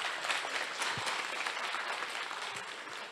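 A conference audience in Buzău applauds in a continuous, fairly distant wash of clapping that holds steady for a few seconds before easing slightly, with no voices.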